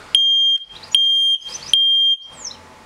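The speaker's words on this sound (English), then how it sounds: "I've got a smoke alarm, which is really, really quite loud." A loud smoke alarm mounted above an electric bike charging station sounds three long piercing beeps in a regular on-off rhythm, close and dominant, with faint handling noise in the gaps.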